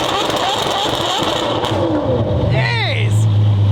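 A McLaren 720S GT3-style sports car with a louder aftermarket exhaust revs up close and hard. It is a sustained roar that climbs sharply near the end over steady background noise, with people talking around it.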